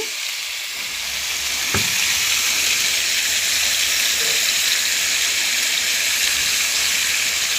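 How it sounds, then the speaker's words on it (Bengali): Diced potatoes and eggplant with salt fry in a hot pan, giving a loud, steady sizzle with a sharp clunk near the start, continuous and alone. "আমি সবজিগুলো দিয়ে দিব, আলু আর বেগুন, আর পরিমাণ মতো লবণ দিয়ে দিচ্ছি"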